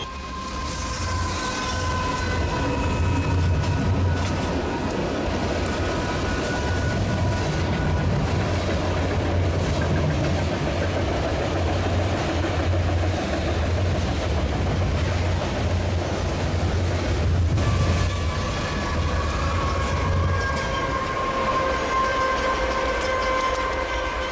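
A Coaster commuter train rolls along the rails with a steady, loud rumble and rail clatter for the whole stretch, while long tonal horn-like notes hold above it. No one speaks.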